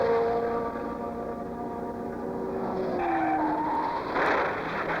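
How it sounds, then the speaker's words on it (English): A 1970 USAC race car at Ontario Motor Speedway skids into the wall, with a loud sustained tire squeal and screeching slide over engine roar, rising into a harsher burst near the end. "That's A.J. Foyt into the wall."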